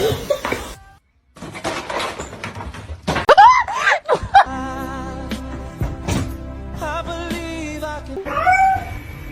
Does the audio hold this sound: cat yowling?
yes